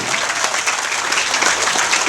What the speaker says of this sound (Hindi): तालियां अपने लिए भी बजा लीजिए